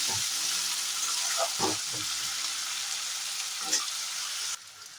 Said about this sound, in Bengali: তো চলুন আমি আগে পেঁয়াজটাকে একটু ভালো করে ভেজে নিই।